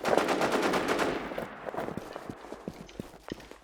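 Rapid video-game gunfire in the shooter NewZ, a dense burst of automatic shots up front that thins into scattered single cracks and thuds, fairly close, with no talk over it.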